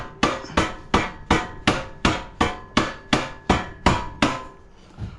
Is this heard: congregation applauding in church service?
no